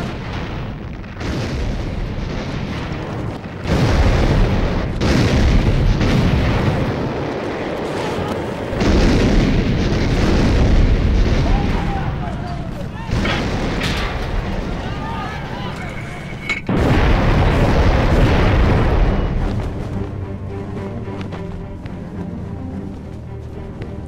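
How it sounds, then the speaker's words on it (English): Heavy naval guns bombarding the Atlantic Wall at dawn before the Omaha Beach landing, a series of loud, deep booming blasts in repeated waves, with narration running over much of the barrage. "At dawn, naval artillery took over in order to smash the Atlantic Wall."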